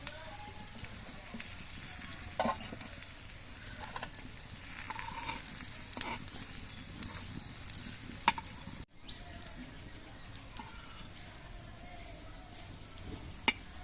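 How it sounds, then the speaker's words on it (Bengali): Pieces of boiled potato fry gently in oil with a soft, continuous sizzle, punctuated by a few faint clicks and taps of a utensil. "এগুলো ভাজার সময় জালটা কিন্তু আস্তে আস্তে দিতে হবে বেশি জোরে জাল হলে পুড়ে যাবে"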